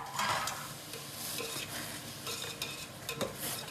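Chopped tomatoes sauté with turmeric and chili powder in a pan for a curry, a steady sizzle running throughout under repeated scraping stirs of a spoon, close and fairly loud, with no voices.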